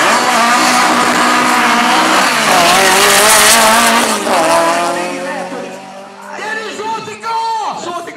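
A 2.4-litre petrol boxer car with 220 hp launches hard at a drag race, its loud engine roar rising and filling the scene with some tire noise, while people talk throughout.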